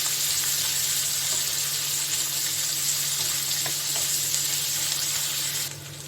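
Tomatoes and whole cut onions frying in a pan with very little oil, a steady bright sizzle that runs without pause and drops off slightly at the very end.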